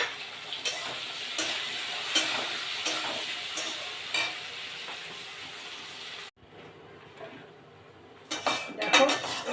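Drumstick stems fry in a pan with turmeric and salt. A metal utensil scrapes and clinks against the pan in regular stirring strokes over a steady sizzle, then the sound drops briefly before louder clattering returns.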